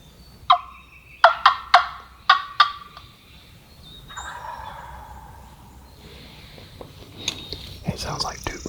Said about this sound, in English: Hear him gobble. He might be on the next ridge over.